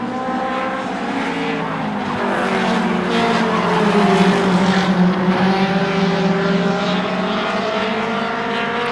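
Short track race cars roar through a lap of a Super Short Track series qualifying run, a loud continuous engine drone with shifting pitch as the pack passes, alone with no talk.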